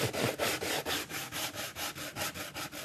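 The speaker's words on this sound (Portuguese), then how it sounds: "aqui eu vou dar um bom desgaste com a lixa bem grossa" Coarse sandpaper scrubs rhythmically across a wooden slatted planter, a harsh rasping stroke repeating back and forth about four times a second, close and steady.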